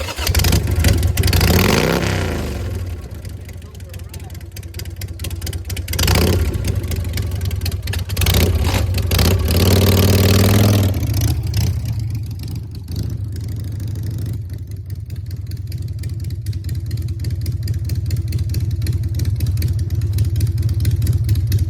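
A Harley-Davidson Sportster motorcycle engine revving and riding, with repeated throttle blips and surges over a rumbling idle, then settling into a steadier running drone.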